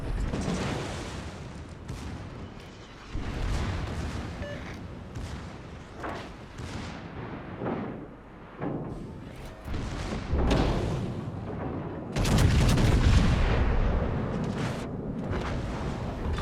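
A destroyer blows up in a naval video game, heard as a run of deep booming blasts and rumbling explosions. A heavier, louder detonation lands near the end.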